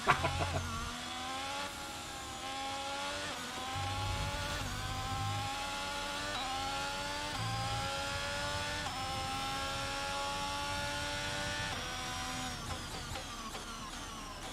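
Race cars roaring off the start in the F1 22 video game, a loud sustained engine whine climbing in pitch through repeated gear shifts, continuous with no talking.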